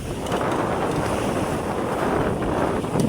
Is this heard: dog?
no